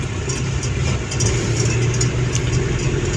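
A car engine idles in slow afternoon traffic, a steady mid-low hum that stays level throughout, close and moderately loud, with faint road noise around it and no talking.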